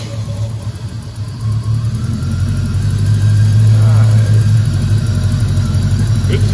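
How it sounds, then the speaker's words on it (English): A classic Corvette Roadster engine rumbles at idle after starting, building slightly louder and steadier as it runs, with a deep low throb throughout. "So here's a fire up for you."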